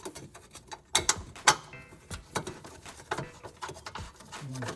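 A ratchet tightening engine mount bolts on a 2008 Chrysler Town & Country, with quiet, close, irregular clicks and small metallic knocks, a few sharper taps standing out.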